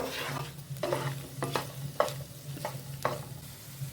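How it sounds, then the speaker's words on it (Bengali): Garlic frying in a pan over a low flame: a quiet, steady sizzle broken by several sharp scrapes and clicks of stirring, with no talking. "চুলা লো ফ্লেমে রেখে রসুনগুলো হালকা লাল করে ফ্রাই করে নিব"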